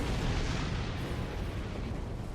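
A ship explosion in the video game Star Trek Online, a dense sustained rumbling blast that fills the whole moment at steady loudness, with no speech.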